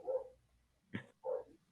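A dog gives three short barks, close and clear, with brief gaps between them and no talking over them.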